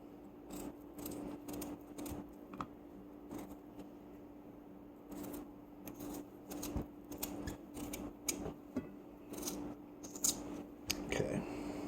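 Kitchen knife slicing potatoes thin on a board, a rapid run of short crisp chops and taps, fairly close, with clatter and faint background hum.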